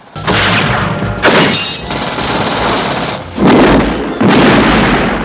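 Heavy booming naval cannon blasts in a film, in quick succession, loud and close, with rumbling bursts overlapping into a barrage and no talking.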